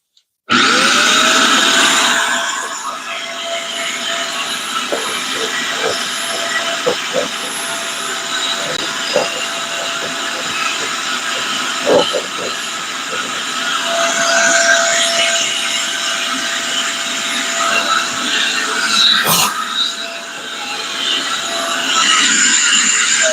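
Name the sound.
vacuum cleaner running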